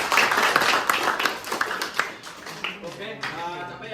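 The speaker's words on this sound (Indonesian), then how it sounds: "Oke, tepuk tangan ya." A university class claps hands together during a lecture, a scattered, uneven patter of many hands that comes in sharp bursts, with a voice talking over parts of it.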